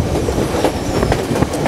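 White Pass & Yukon Route narrow gauge train running on its mountain summit line, a steady loud rumble of wheels and railcars with clickety-clack beats and faint wheel squeal.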